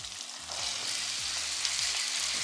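Vegetables sizzle steadily in a tomato-onion tadka gone pulpy, a dense close frying hiss that swells after a quieter start and holds evenly with no talking.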